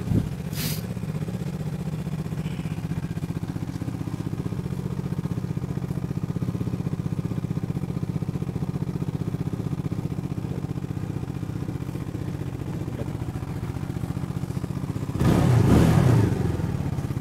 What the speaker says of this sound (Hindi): तो आवाज़ तो इसकी बहुत दमदार है सर सुपर बाइक की तरह फील करता है